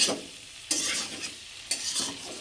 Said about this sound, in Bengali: সব কিছু আলুটা ভাজি করে নিতেছি রান্না করার আগে